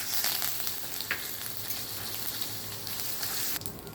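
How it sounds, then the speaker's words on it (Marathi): Mustard seeds, asafoetida, cumin, curry leaves and peanuts sizzle steadily in hot oil, a close, continuous crackling fry with a few brief pops. "मोहरी टाकू, हिंग, जिरं, कढीपत्ता, शेंगदाणे"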